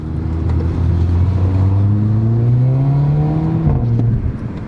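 A Mercedes A45 AMG engine revs up close, its pitch climbing steadily for several seconds with a rough, metallic exhaust note before dropping back abruptly.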